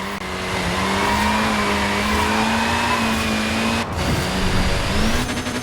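Tiny Mini tyres squealing as they lay rubber in Forza Horizon 4, a loud, steady high whine over a continuous engine drone, with one brief dip before the squeal resumes.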